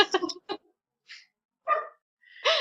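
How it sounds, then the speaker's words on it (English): A dog barks in the background of an indoor interview, with several sharp, separate yaps in an uneven rhythm and pauses between them, at moderate distance. "Dog's freaking out in the background"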